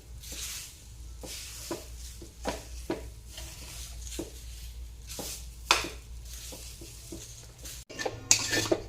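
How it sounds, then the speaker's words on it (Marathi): Dal being slowly sautéed in a pan over very low heat, with soft repeated stirring and scraping strokes and faint sizzling at close range, no talk. "अगदी मंद आपल्याला हे परतून घ्यायची आहे"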